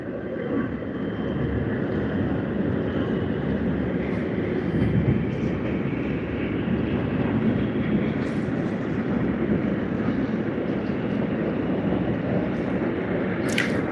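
An Air Canada Boeing 777-200LR airliner at Sydney Airport gives a loud, steady jet roar that holds evenly for the whole stretch, with no voices over it.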